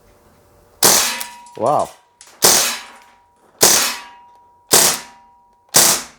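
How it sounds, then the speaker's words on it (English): An Umarex Steel Strike CO2 blowback BB rifle fires in the field: a series of sharp, loud cracks spaced about a second apart, each ringing off briefly, with a short metallic ping between the first two and a single exclaimed word. "let's just do as many 6 rounds bursts as we can until she empties"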